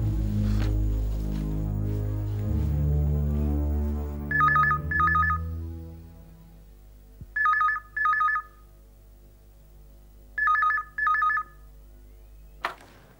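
A telephone rings three times in paired electronic bursts with pauses between, clear and close, after a fading stretch of background music at the start.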